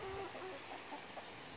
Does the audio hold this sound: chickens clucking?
yes